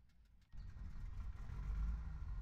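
Engines of an American Airlines 757-200 spooling up in Flight Simulator X: a low rumble swells suddenly after half a second and keeps building into a steady, growing drone.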